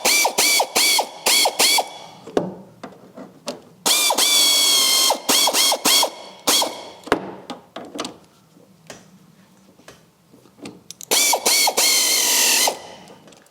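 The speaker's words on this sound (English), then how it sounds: "And now we bolt down the shackle." A ratchet wrench tightens the rear spring shackle bolt on an MGB GT, loud close bursts of rapid clicking in repeated strokes separated by brief pauses and single ticks, no talking.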